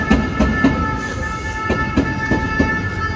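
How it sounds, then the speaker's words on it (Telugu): A train rolls along an overhead metro line in Paris, its wheels knocking in a regular clickety-clack rhythm over rail joints with a faint steady whine, heard from street level below and fairly close. "పైన ట్రైన్ వెళ్తుంది చూడండి."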